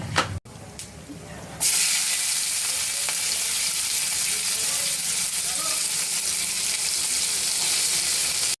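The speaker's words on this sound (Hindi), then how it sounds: "पियाज को भाजी नबा, बेसी लाल करी भाजवानी" Sliced onions fry in oil in a pan for a fish-fat dish, a steady loud sizzle that starts abruptly after a faint opening and hisses on without pause, with no talking.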